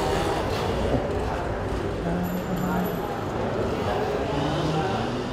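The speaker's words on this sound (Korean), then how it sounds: "스리랑카의 기차 여행은 옛날 방식이라 특별한 재미가 있습니다" Train journey through Sri Lanka, with a continuous low rumble and rattle of the carriages running steadily throughout, faint squeals and rhythmic clatter over the tracks, and voices faintly audible in the background.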